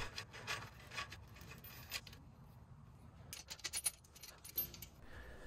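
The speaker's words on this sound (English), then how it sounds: "Now it's just a matter of bolting these nuts back in." Nuts are threaded back onto the rear axle of a Velowave Ghost e-bike, giving faint close metallic scraping, rubbing and small jangling clicks in uneven bursts, with no talking.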